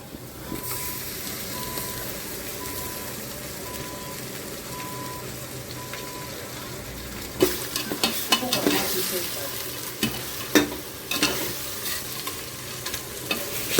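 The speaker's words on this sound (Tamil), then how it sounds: "வெங்காயம் பச்சை மிளகா போட்டு வதங்கிறோம்ல" Onions and green chilies sauté in a pan for beef biryani, with a soft sizzle and a faint repeating beep early on, then louder scraping and stirring strokes near the mic.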